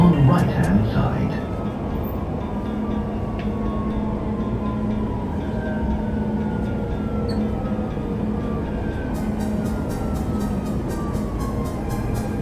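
Riding the Dubai Metro: a steady rolling rumble and hum of the train in motion with faint rail whines, and a voice speaking over it.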